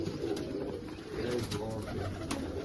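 Pigeons from a racing bloodline coo steadily at close range in a loft, low throaty calls repeating and overlapping throughout, with occasional rustling.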